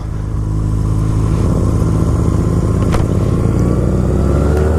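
A Honda Rebel motorcycle engine runs loud and close after being pop started, holding a steady, throbbing idle with a brief rev partway through.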